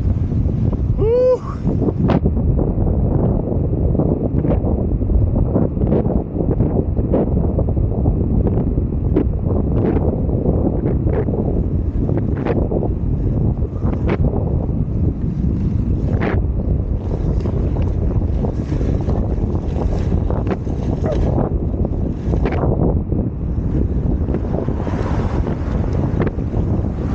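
Strong wind roars steadily over the microphone while skating downhill in Cape Town, a constant loud rushing buffeting with scattered clicks and rattles of wheels on the road.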